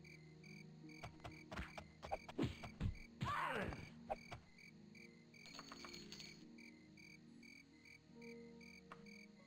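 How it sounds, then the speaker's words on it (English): Crickets chirp in the video game Daggerfall as rapid, repeated trilling pulses among faint clicking game sounds and a brief louder burst. "I hate these friggin' crickets."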